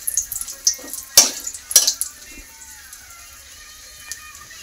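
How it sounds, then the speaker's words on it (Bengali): Chili frying in a pan in a Bengali home kitchen, with loud metal clatters of a spoon against the pan near the start. A low sizzle continues faintly afterward. "আর এই দেখো অল্প ফ্রাই করব, লঙ্কা"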